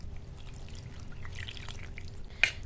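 Water poured into kachori batter in a bowl, a soft, faint trickle over quiet room noise with a small splash at the end.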